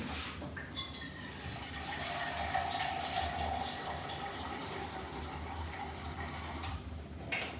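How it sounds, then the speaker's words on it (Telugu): Water is poured into a pot of seasoned basmati rice for dum biryani, a steady close splashing stream lasting several seconds before stopping. "అప్పుడు వాటర్ వేసుకుంటాం."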